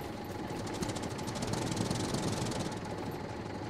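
A tractor engine in the survival game Scum chugs in a dense, steady rattle, a continuous knocking drone that stays loud and even throughout with no speech over it.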